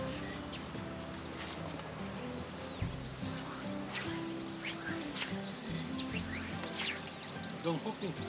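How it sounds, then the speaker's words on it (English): Coots call across a trout lake in the UK in a run of short, honking, duck-like notes, moderately close, heard under steady talk and outdoor background noise. "And them ducks make it such a funny noise they are. Coots, them are."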